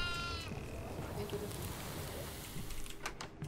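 A goat bleats in a horror video game, a quavering cry near the start over a dense, steady game soundscape, fairly faint.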